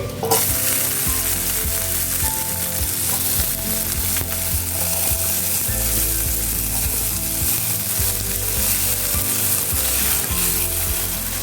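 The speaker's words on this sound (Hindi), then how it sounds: "ये मैंने दूसरे पैन में भी तेल गर्म कर लिया। अब हम इसमें बरबट्टी फ्राई करेंगे।" Long beans fry in hot oil in a pan, a loud, dense, continuous sizzle with a rattling, mechanical-sounding undertone throughout, heard up close.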